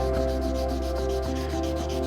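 Repetitive back-and-forth hand sanding of resin with an abrasive sanding pad, quick rhythmic strokes over a steady mechanical hum.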